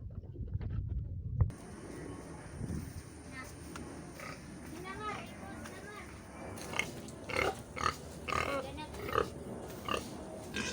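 Pigs on a backyard farm grunting and snuffling at close range while people talk over them, the animal sounds rising in short bursts toward the end.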